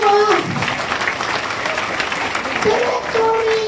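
Audience applause at an evening distributor training event, a continuous wash of clapping from a crowd lasting a few seconds, with a voice briefly heard at the start and end.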